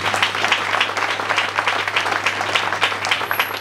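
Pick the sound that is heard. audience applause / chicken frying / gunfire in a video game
audience applause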